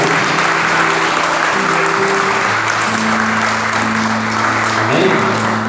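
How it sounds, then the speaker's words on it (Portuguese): Church congregation applauding during an evening worship service, a steady wash of clapping from many people that carries through the whole stretch, with sustained musical tones and voices underneath. "Aplauda o Senhor nessa noite."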